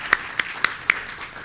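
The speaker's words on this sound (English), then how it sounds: "So I'll give you a round of applause for that." Audience at a business economic forum claps, with four distinct, evenly spaced claps rising out of a faint background murmur; the clapping is quiet and brief.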